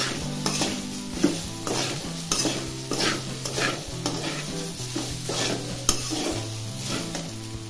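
Sabudana is added to a hot pan and stirred, with a close sizzle and rhythmic scraping of the spoon against the pan over light background music.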